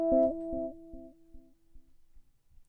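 Delay effect on an OP-Z synthesizer at full amount with no cutoff: a loud tonal note repeats in echoes about every 0.4 seconds, each repeat fading and thinning until faint by the end.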